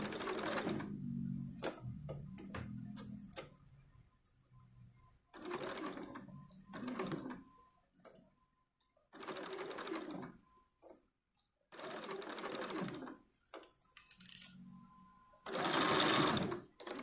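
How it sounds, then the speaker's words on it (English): A sewing machine runs in several bursts of stitching, a few seconds each, with pauses between, while sewing a seam on a skirt for an 11.5-inch doll made from Simplicity 8865. The machine is close and moderately loud. "I'm going to sew this side down"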